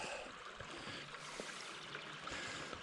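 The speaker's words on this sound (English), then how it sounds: "Lovely little babbling brook." A small babbling brook in the English countryside along the Coast to Coast walk trickles and gurgles steadily, faint and continuous, with no voices over it.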